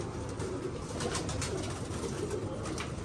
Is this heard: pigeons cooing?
yes